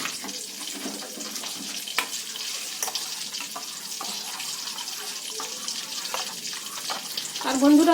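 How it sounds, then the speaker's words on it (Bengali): Spice paste with a few cashews sizzling and being stirred in hot oil in a kadai, a steady close fry with scraping stirs and a brief watery rush near the end. "এখানে আমি তেলের মধ্যে কড়াইতে দিয়ে দিচ্ছি মশলাটা"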